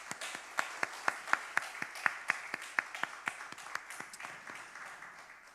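Church congregation clapping together during a Parents' Day Sunday worship service, a steady run of sharp, roughly even claps that thin out and fade toward the end.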